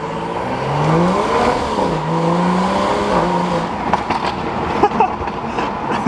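A BMW M235i with a catless VRSF N55 downpipe drones under load, then lets out a few sharp exhaust pops and crackles as the revs fall.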